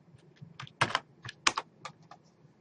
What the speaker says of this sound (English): let's go ahead and type that in there